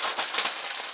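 Plastic packaging bags from an Avon order rustle and crinkle in brief, close bursts, with a crisp, bright texture and no speech.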